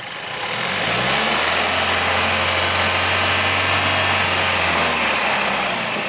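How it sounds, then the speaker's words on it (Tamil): A Hyundai Verna 1.5 turbo petrol engine with a 7-speed DCT revs up from idle and holds a steady, loud, close drone for several seconds before easing slightly. "லைட்டாக ரவ் பண்ணுவோம்."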